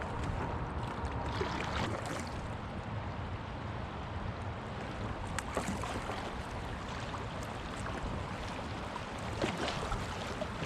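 A kayak runs through minor rapids on the Bow River, with a steady rush of churning water and splashing around the hull, continuous and fairly close.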